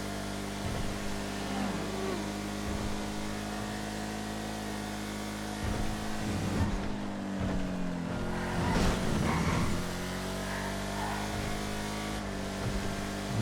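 Race cars in a GTA FiveM video game race drone with a steady engine tone that swells and revs at moments, a continuous mechanical hum running the whole stretch.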